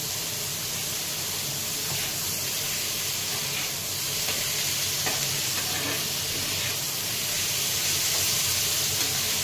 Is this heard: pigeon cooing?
no